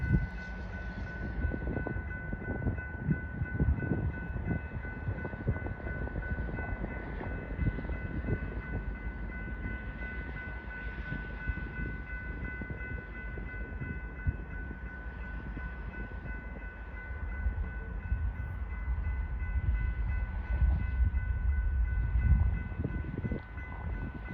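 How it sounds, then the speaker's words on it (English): A Norfolk Southern grain freight train rumbles steadily past on the rails for a long stretch in Ohio, with rhythmic clacking and a low mechanical drone that swells toward the end. "Here is yet another bad video of Grain Train 55T turning west onto the Fostoria district"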